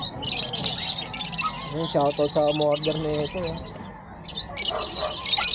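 Many caged birds for sale at a bird market in Bocaue, Bulacan squawk and chirp together in a dense, noisy chorus, with someone talking over them throughout.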